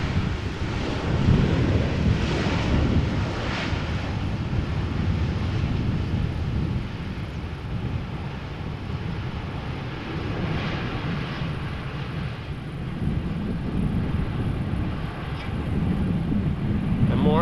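Etihad Cargo Boeing 777 arriving at Amsterdam Schiphol in crosswind, a steady low engine roar mixed with gusty wind buffeting, loud and continuous throughout.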